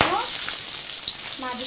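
Fish frying in hot oil, a brief steady close sizzle with faint crackle and a short tonal squeak at the start and end.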